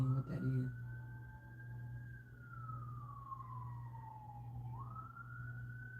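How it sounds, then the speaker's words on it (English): A siren wails at a distance, its tone slowly falling then rising again, over a steady low engine drone after a brief rustle at the start. "Sound like an ambulance, but you never know."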